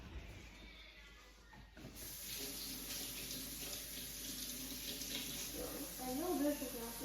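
Tap water runs steadily from a faucet into a sink after a sulfur science experiment, a continuous hissing splash that starts after a brief quieter moment and swells slightly near the end, with a voice speaking faintly underneath.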